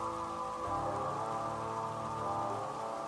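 Steady rain on a surface, a continuous dense wash of patter at low level with a constant low hum underneath and no voices.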